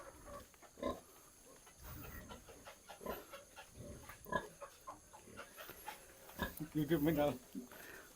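Pigs on a farm grunt and squeal in short bursts, close and moderately loud, with a louder squealing cluster near the end, while someone talks throughout.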